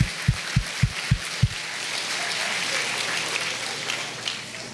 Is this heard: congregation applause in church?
yes